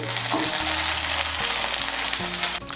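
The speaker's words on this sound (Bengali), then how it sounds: "এই দেখুন, ভেন্ডিগুলোকে হালকা করে ভেজে নিয়েছি। এখন এগুলোকে তুলে নিচ্ছি।" Okra fries in oil with a steady, loud sizzle throughout, accompanied by faint utensil scrapes and low background tones.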